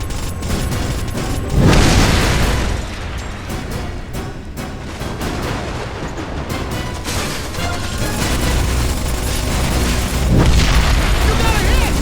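A rebel weapons convoy is hit in Ghost Recon Advanced Warfighter 2, with two deep, loud explosion booms several seconds apart over a constant rumble of battle noise.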